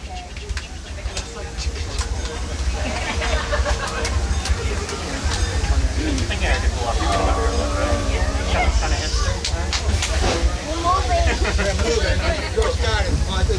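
The Disneyland Railroad train rumbles steadily along rails with a constant low hum and rattling, while passengers chatter in the background.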